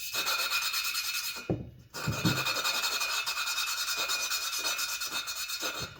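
Steady rasping and rubbing as a hone works the cylinder bores of a Kawasaki engine block, a continuous abrasive scrape with a brief pause midway, close and fairly loud.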